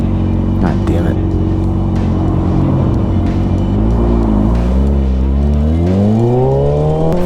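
A Kawasaki ZX6R sport bike's engine drones loudly while being ridden, its pitch sweeping up and down as the rider revs and shifts, with wind noise and someone talking over it.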